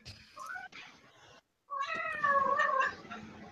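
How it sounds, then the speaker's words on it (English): A house cat meows indoors in two drawn-out, wavering calls separated by a short silence, close by and moderately loud with no talking over it. "Whose cat was that?"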